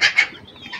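A Sebright chicken, an ornamental fancy breed, gives two quick, close clucks in the first quarter second, followed by a faint, trailing fowl call.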